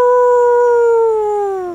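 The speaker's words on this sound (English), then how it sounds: "No, Bartolito, that's a wolf." A wolf puppet in a children's farm puppet show lets out one long, loud, steady howl that sags slightly in pitch toward the end, clear and alone.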